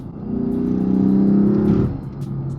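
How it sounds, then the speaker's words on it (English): Lexus IS F with a catback exhaust and strong induction noise revs in a sustained, close, fairly loud pull lasting over a second, then drops back to a lower idle hum. "The induction noise is so nice."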